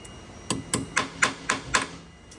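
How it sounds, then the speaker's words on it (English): Six evenly spaced sharp metallic taps ring out, a hammer tapping a Herzog shutoff nozzle flush on a Haitian Absolute ZE 1900 III injection molding machine at a steady rhythm, close and clear against a quiet background. "if you hammer with a hammer, you can't slam it too low"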